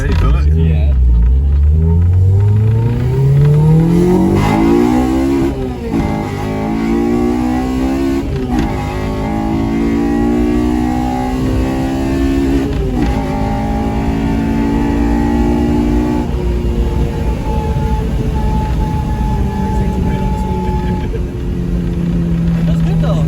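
A Honda Civic DX with a K20Z3 engine, converted from automatic to manual, drones and rumbles loudly while driving, its pitch climbing through repeated gear pulls, with voices talking over it.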